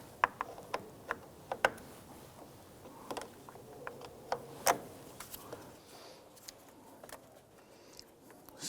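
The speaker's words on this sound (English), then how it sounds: "Using a 10mm wrench, we're going to go ahead and loosen the terminal on the positive side here." A 10mm ratchet wrench loosening the positive terminal nut on the starter of a 1992-1996 Toyota Camry 2.2L four-cylinder, giving a string of sharp, close clicks in irregular bursts, fairly quiet with no talking.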